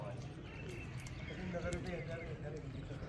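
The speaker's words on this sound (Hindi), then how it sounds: "कबूतर काफी धूमधाम उड़ गए जी।" Pigeons on a rooftop in Sialkot, cooing softly amid a steady outdoor hum and continuous rustle, with occasional brief flutters and chirps; voices murmur faintly in the background.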